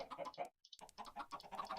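Chickens cluck in the video game Minecraft on the Qcraft SMP server, a chicken farm producing short, choppy bursts of clucking that repeat almost continuously with a brief gap near the start.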